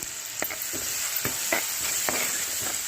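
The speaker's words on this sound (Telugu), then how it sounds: "సో ఇవి బాగా వేగాలండి." Eggplant pieces with curry leaves sizzling steadily in an oil pan, a constant frying hiss broken by several sharp clinks and scrapes of a spatula stirring.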